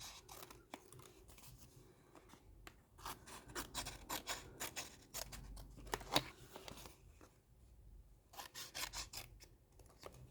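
Scissors snip through paper for a handmade decorative photo frame, a run of close, quiet cuts and rustles in irregular bursts with brief pauses between them.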